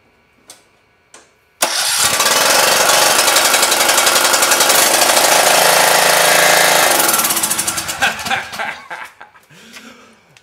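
A small engine cranks during a spark plug tester check, then catches and runs loudly with a rapid, rattling beat before sputtering down to stop near the end.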